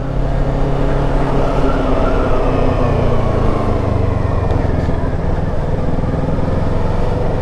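A Kawasaki Ninja 650 motorcycle is ridden on the road, its engine a loud, continuous drone with a shifting pitch, heavy wind rush blended in, heard close and steady throughout.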